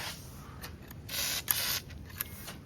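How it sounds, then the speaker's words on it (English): Quick hissing bursts of WD-40 from an aerosol can are sprayed into the rotor stud holes of a Jeep XJ, three or four short spurts of varying length, close and fairly quiet. "I'm gonna start with some WD-40 just in each of the left stud holes."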